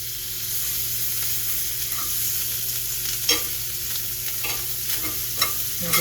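Butter sizzles in a pan as it is browned for johnny cakes, a steady close hiss broken by scattered scraping taps of stirring.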